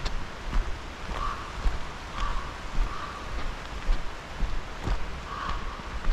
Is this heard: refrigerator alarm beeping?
no